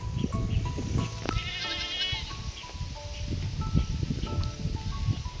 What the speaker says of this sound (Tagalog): naglalaro po yung baby na kambing